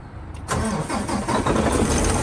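A truck engine cranks briefly and catches, then settles into a loud, close, steady idle that runs to the end.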